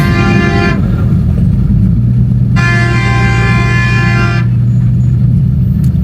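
Trucks blare their horns in heavily blocked traffic on the Islamabad Expressway at KAK Pull, two long loud blasts with a lower continuous horn tone beneath them, close by and with no talk.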